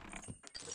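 A ship's anchor winch ratchets as the anchor is raised in the sailing game Sail, a short close clicking, geared mechanical rattle lasting under a second with no talk.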